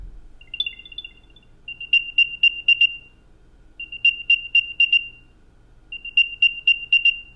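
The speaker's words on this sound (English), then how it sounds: "including having the AirTag play a noise that sounds like this" An Apple AirTag tracker plays its locating sound: a short rising chirp followed by three bursts of rapid, bright electronic beeps, each burst a cluster of five or so tones separated by brief pauses, clear and close over a faint background hum.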